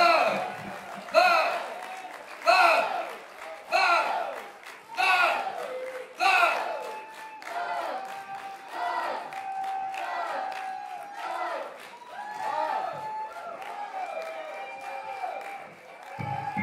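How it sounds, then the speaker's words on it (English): A concert crowd at a show cheers and claps in repeated surging bursts, with shouts rising over the noise, gradually settling into a steadier murmur of applause and voices. "everybody, let's start clapping"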